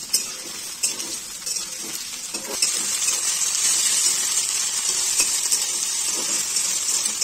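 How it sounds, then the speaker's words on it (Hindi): Potatoes fry in a pan with a bright, steady sizzle that swells and holds after a few early clinks and scrapes of a utensil, with no voices over it. "यहाँ पर मैं पहले आलूओं को फ्राई कर लूँगी"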